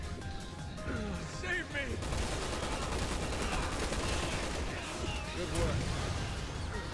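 Sniper shots and rocket launcher blasts in Resident Evil 6 Mercenaries mode, a dense barrage of loud cracks and booms layered over game noise while players talk.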